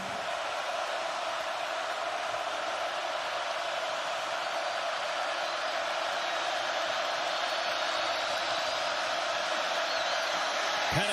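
A dense, steady football stadium roar from a large crowd at the Oregon vs Washington college game, a broad wash of noise that holds constant throughout without pause.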